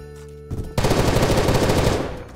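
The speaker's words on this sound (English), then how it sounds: "He's using a gun on burst at range" Burst gunfire at range in Apocalypse Rising 2, a tight rapid volley of shots following a short hum, sharp and fairly loud, rattling for about a second and a half before fading.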